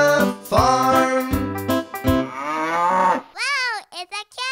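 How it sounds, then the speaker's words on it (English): A cow moos several times in a farm-animal sound sequence, drawn-out lowing calls following a bright, harmonic voice, loud and close with short gaps between the final calls. "Wow, it's a cow."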